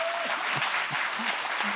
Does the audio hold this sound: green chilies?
no